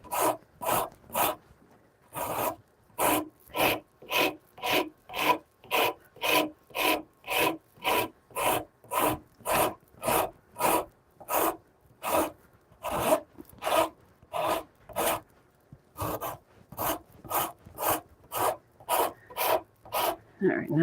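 Hand rasp rough-shaping a wooden shillelagh, a long run of regular scraping strokes roughly one per half second, close and crisp, with brief pauses between short series of strokes.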